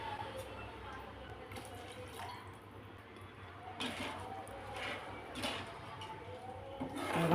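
Steady running water pouring and splashing into a vessel, fairly quiet, continuing throughout with faint clinks near the end.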